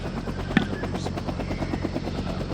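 Steady rotor chop of a Huey helicopter in the Vietnam 65 strategy video game, a continuous, fairly loud whirring drone with a sharp click partway through and no talk over it.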